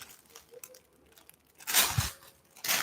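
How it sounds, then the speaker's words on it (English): A plastic bag crinkles around a thrifted silk purse, sounding as two short, crisp rustling bursts close up, with quiet handling noise between them. "It's so special that I keep it in a plastic bag."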